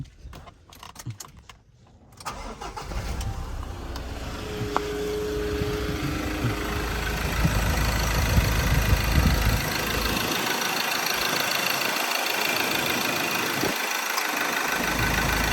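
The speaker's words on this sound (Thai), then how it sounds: "เดี๋ยวผมจะพามา สตาร์ทฟังเสียงเครื่องครับ" The diesel engine of a 2012 Mazda BT-50 Pro pickup truck cranks and starts, then settles into a steady rumbling idle with clattering, continuous and close.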